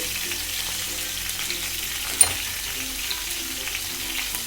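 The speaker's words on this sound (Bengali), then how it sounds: "ফুলকপিগুলো আমি ভালো করে ভেজে নেব অল্প লবণ" Salted cauliflower fries in a pan with a steady, close sizzle, one brief sharp clink midway, no voices.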